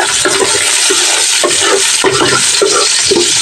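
Sliced onion frying in a hot pan for salmon sinigang, a loud steady sizzle broken by repeated scraping stirs of the spatula, close up and with no talk.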